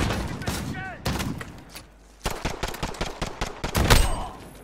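Shotgun and other gunfire in the video game Call of Duty Modern Warfare, with sharp shots in irregular bursts and a dense cluster near the end, plus brief voice sounds mixed in.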